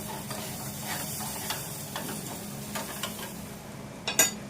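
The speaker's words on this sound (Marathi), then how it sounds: "त्यामध्ये थोडं बटर घालून घेऊया।" Butter sizzles in a hot pan for a toasted sandwich, a soft continuous hiss with light stirring scrapes and a sharper clink near the end, no voices.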